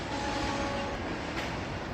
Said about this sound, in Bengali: কি দেখছো ট্রেন দেখছো